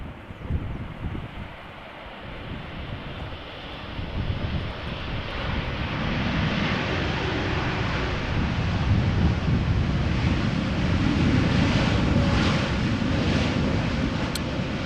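A jet airliner lands in a moderate south-southwest crosswind at Amsterdam Schiphol Airport, its engine roar swelling into a loud, broad rumble mixed with heavy wind buffeting on the microphone.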